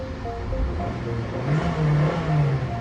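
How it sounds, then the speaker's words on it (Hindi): Suzuki Swift base model engine revved while parked, a steady idle that climbs into a rising rev and settles again, close and fairly loud, with no talk. "देखो मैं आपको थोड़ा सा रेव करके दिखाता हूँ"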